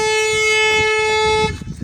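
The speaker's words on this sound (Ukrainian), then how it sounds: "у нас спрацьовує е, заводська сигналізація" The factory alarm of a Renault Megane sounds its ordinary horn in one long, steady, loud honk that cuts off abruptly after about a second and a half, leaving faint background noise.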